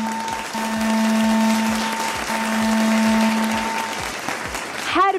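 Students in a classroom clap together in a steady burst of applause that swells and holds, with a sustained tone running underneath, then fades near the end.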